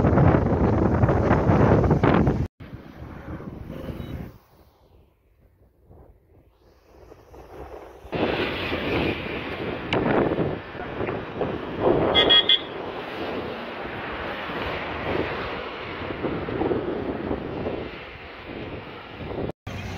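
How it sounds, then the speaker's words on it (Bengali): Strong wind roars and buffets the microphone beside a railway line near Rameswaram, easing to a low rumble for a few seconds midway before gusting loudly again. "মারাত্মক হাওয়া দিচ্ছে"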